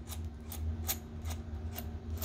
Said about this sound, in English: This is a crank drill. Very similar to a power drill